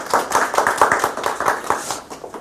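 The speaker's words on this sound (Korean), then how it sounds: "큰 박수로 환영해 주시기 바랍니다." An audience at a university lecture claps to welcome the speaker, a brief burst of brisk, fairly close hand claps with no voices.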